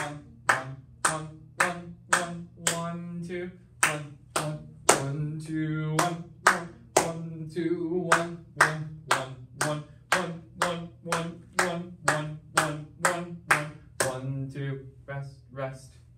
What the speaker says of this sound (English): Let's clap it with one and two.